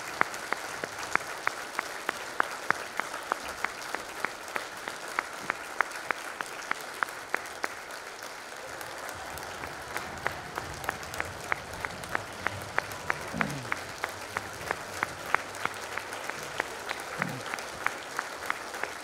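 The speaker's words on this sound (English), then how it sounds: "we can clap now" Clapping from a small audience at a retirement party, fairly rhythmic and even-paced, moderately close and sustained, with faint voices and low murmurs underneath.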